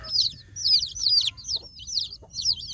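Newly hatched free-range village chicks peeping in rapid, high chirps, repeated in quick bursts close by over a low background hum.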